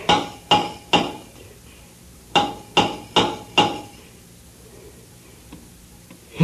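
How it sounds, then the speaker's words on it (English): Seven sharp metallic hammer taps strike a submarine hull from the inside, loud and close, in an uneven pattern of three, a pause, then four, with no talk over them. "Take the hammer and answer his signals."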